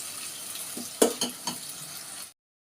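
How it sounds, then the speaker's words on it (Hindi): Onions frying in a pan for chicken korma, stirred slowly with a spoon: a steady close sizzle with a few sharp spoon scrapes and knocks, cutting off abruptly near the end. "अब आप ये देखें, हम इसके अंदर आहिस्ता आहिस्ता चम्मच चलाते रहेंगे और हम इसको गोल्डन ब्राउन करेंगे।"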